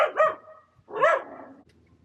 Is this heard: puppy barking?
yes